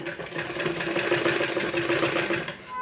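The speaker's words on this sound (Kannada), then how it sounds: "ಬ್ಲೌಸ್ ಫುಲ್ಲು ಇದೇ ಥರ ನೀವು ಫೋಲ್ಡ್ ಮಾಡಿ ನಿಧಾನಕ್ಕೆ ಸ್ಟಿಚ್ ಮಾಡ್ಕೊಳ್ಳಿ" A sewing machine runs steadily, stitching piping onto a blouse neck with a close, even mechanical whirr and rapid needle patter.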